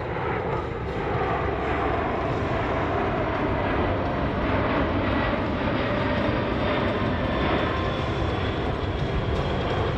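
A C-17 Globemaster military jet aircraft at an airshow gives off a steady, loud, broadband engine roar that holds constant for the whole stretch, with no speech over it.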